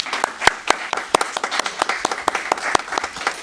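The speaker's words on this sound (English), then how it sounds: "I think that was for Billy, but you might get the applause as well." A meeting audience at a Martin County, Florida live-streamed session breaks into applause, a lively run of sharp, uneven hand claps from a small crowd, close and clear with no talking.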